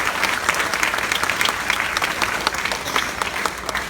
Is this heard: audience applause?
yes